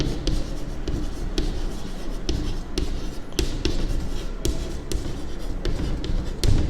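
A pen scratches steadily on paper while a linear equation in two variables is handwritten, close and continuous with frequent small taps and strokes.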